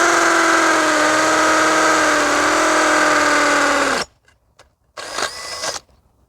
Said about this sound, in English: I've put in a 5/8 inch masonry bit.